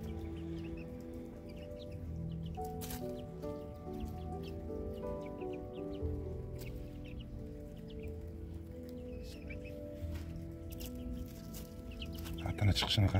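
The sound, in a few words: long-tailed phoenix roosters clucking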